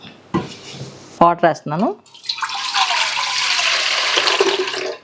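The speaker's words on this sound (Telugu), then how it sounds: "వాటర్ వేస్తున్నాను" After a few spoken words, about one litre of water pours steadily and loudly into a pot, a rushing splash that continues to the end.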